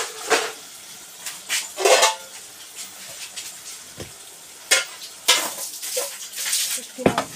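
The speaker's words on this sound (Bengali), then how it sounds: "এই সিলভারের যে থালাটা আছে, এটা দিয়ে ঢাকবো এখন আমি" A steel plate is set over a pan of frying dried fish with a run of close, irregular metallic clanks and scrapes, separated by quieter pauses.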